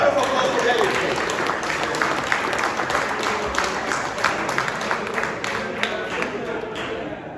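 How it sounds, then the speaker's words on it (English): A crowd at a golf tournament awards reception applauds with a continuous wash of clapping that carries on steadily and fades slightly toward the end. "Right of applause for Debbie, please."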